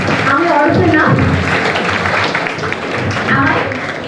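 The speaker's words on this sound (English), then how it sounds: "Can I have a few rounds of applause for everybody present here in this auditorium?" An auditorium audience applauds, a dense steady clatter of many hands filling the room throughout while a voice speaks over it.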